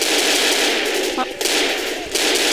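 Rapid automatic gunfire from the zombie shooter game Left 4 Dead, a dense continuous rattle of shots that holds steady for the whole stretch with only brief dips.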